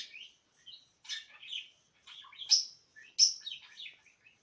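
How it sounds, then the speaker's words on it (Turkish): A pet bird chirps nearby in short bright bursts of tweets, repeated irregularly with brief pauses, loud and alone with no voices. "Yanımda kuşum var. Onun ses gelebilir."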